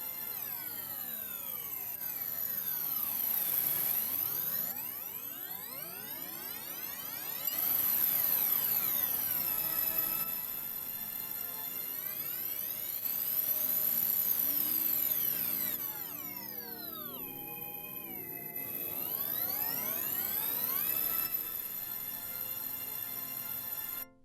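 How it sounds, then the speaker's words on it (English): Pink noise runs through the MIDIFilt filter plugin, producing a steady hiss with layered resonant tones that sweep up and down in repeating arcs and shifting steps, continuous and moderately loud with no voices. "I will demonstrate this using pink noise and a spectrum."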